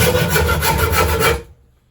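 A hand saw rasps through wood in quick, even back-and-forth strokes, close up, then stops abruptly.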